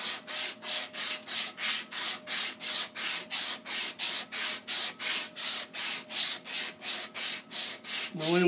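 Sandpaper rubs a lead pipe clean in quick, even back-and-forth strokes, about twenty scratchy swipes in a steady rhythm, heard up close.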